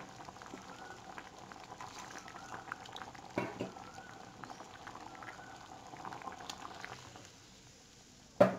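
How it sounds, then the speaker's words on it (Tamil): Tomato curry (thakkali kulambu) bubbles steadily in a pot, a soft continuous simmering with a few louder pops and clinks, ending in a sharp knock. "குழம்பு வந்து இந்த அளவுக்கு நல்லா கொதிச்சிருச்சு"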